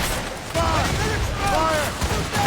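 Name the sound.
ship cannons firing, from video game Assassin's Creed Rogue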